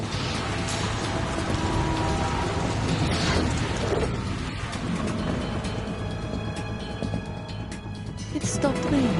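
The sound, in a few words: rain in video game Metal Gear Solid 2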